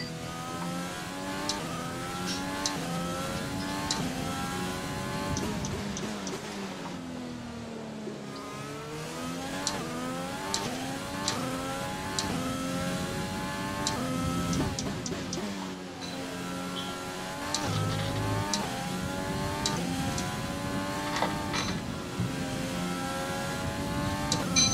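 A race car engine revs and shifts through gears during a preseason race in Spain, with repeated rising and falling engine notes, close and loud, sweeping through the whole stretch, dipping briefly before climbing again.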